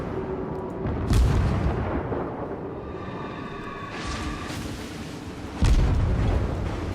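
Naval guns fire in World of Warships as deep booms at about one and five and a half seconds, with a whooshing rumble of shells between them.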